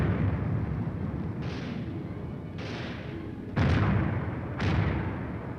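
A 4.2-inch mortar platoon firing, four loud booming blasts spaced about a second apart over a constant low rumble.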